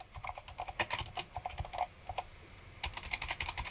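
Name being typed on a computer keyboard with the text tool in Photoshop: a close, steady run of quick key clicks, a brief pause near the middle, then another flurry of keystrokes, with no talking.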